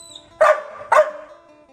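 A dog gives two sharp, loud barks close by, evenly spaced about half a second apart, against a quiet background.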